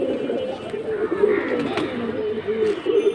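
Silver pigeon cooing at a pigeon sale, repeated low throaty coos close by, with other birds and faint voices in the background.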